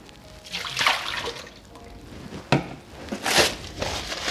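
Water poured off soaked tomatoes, a close splashing and gurgling flow that swells and eases in uneven bursts with faint crinkling handling noise, no voices.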